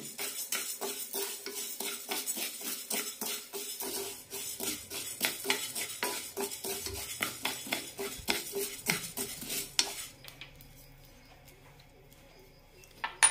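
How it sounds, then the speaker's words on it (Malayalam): A spoon stirs urad dal and cardamom roasting in a pan on low flame, making rhythmic scraping clicks close by that go on steadily, then give way to a quieter, sparser tail. "ഉഴുന്ന് നന്നായി വറുത്തെടുക്കാം."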